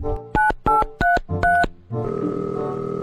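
A telephone keypad beeps out four quick dialing tones in an even rhythm, followed by a steady ringing or dial tone, clear and close with no talking.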